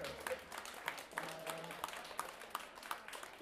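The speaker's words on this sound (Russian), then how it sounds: "Давайте аплодисментов добавим" Audience applause for a salsa orchestra at a live concert, a soft spread of clapping with scattered sharper claps, fairly quiet and steady throughout.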